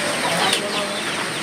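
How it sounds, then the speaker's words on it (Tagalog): Chickens cluck softly on a godmother's farm in Sabang, Naic, Cavite, a steady low chatter of fowl under a constant hiss of outdoor ambience, with no single call standing out. "Ito may mga manok sila oh."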